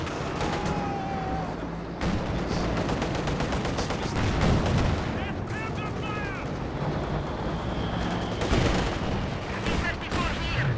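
Paired anti-tank guns in Company of Heroes 2 fire repeated heavy booms through dense battlefield noise in a 2v2 match, with commentary talk running over the shots.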